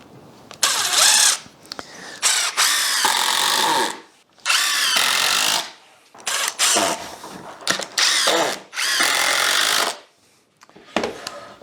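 A power drill drives screws into a reclaimed wood frame for simple garden furniture, sounding as several loud, close whirring bursts separated by short pauses, with no talking.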